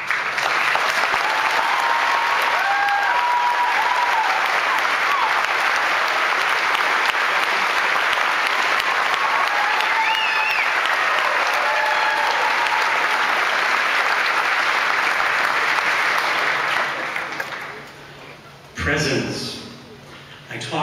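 A large high school graduation audience gives a long, loud round of applause for standing career and technical program graduates, dense steady clapping for about seventeen seconds before tapering off, followed by brief rustling and a short voice.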